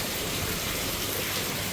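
Heavy rain pours down steadily outdoors during a monsoon downpour, a dense continuous hiss of drops hitting surfaces, loud and close, with no break for the whole stretch.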